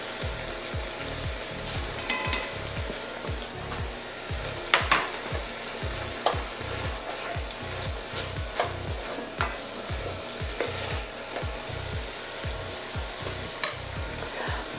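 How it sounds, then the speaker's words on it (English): Beef and minced garlic sizzle steadily in a Dutch oven while a utensil scrapes and stirs in a regular back-and-forth rhythm, close and continuous, with no voices. "We're going to let that meat get just a little more brown on the bottom"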